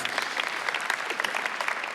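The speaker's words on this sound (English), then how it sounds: "Can we have an applause for One New Zealand," Audience applause at a Salesforce World Tour event in Sydney, a brisk, dense round of many hands clapping steadily throughout, fairly close and with no talk over it.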